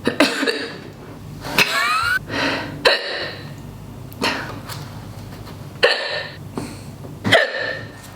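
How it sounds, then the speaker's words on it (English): Several sharp coughs, each followed by quick gulping hiccups, repeated at uneven intervals with breathing in between, close and fairly loud. "I can't cough without immediately hiccuping."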